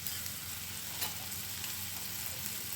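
Tomatoes and spices, including salt, Kashmiri red chili, coriander powder and chaat masala, fry in oil for lobiya chaat, giving a dense, even sizzle with a faint stir near the middle, no speech.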